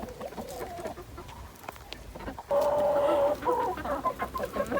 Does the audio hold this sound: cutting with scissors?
no